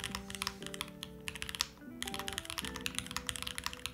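Fast, continuous typing on a Bear65 V2 mechanical keyboard, dense clattering keystrokes close up with a brief pause partway through, over quiet background music.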